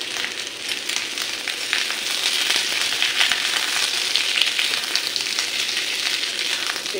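Food sizzles and fries steadily in too much oil in a pan as salted, kneaded lips are added to cook, a dense continuous crackle that stays close and fairly loud throughout with no talking.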